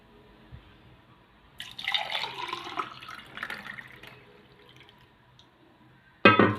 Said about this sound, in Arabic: وهنزل معاهم كمان ايه بكوبايه ميه